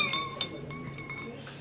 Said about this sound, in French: Et on n'oublie pas les petits glaçons.